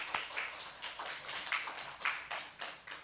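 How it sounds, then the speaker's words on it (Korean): A church congregation gives brief applause, heard as a soft, fairly distant patter of clapping that comes in several rhythmic swells. "하나님께 영광의 박수 돌리겠습니다."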